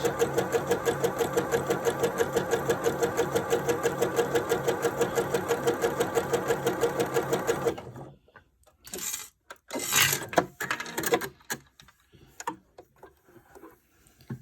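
A sewing machine stitches near the edge of a fabric seam with a fast, even mechanical chatter for about eight seconds, then stops, leaving soft rustling and handling noises.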